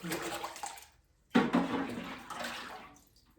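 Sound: water being poured out outside

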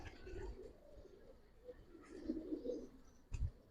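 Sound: giribaz pigeons calling and cooing

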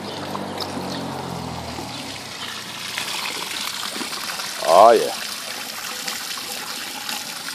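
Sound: water gushing out of PVC aquarium overflow without drain cover

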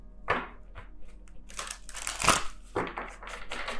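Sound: shuffling tarot cards

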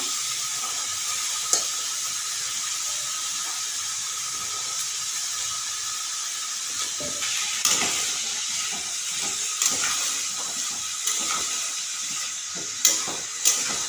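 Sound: masala frying and sizzling in pan

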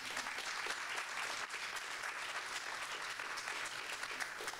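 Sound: audience applause

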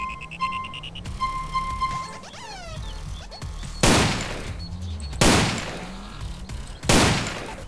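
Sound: gunfire from a weapon pack in the video game GTA San Andreas

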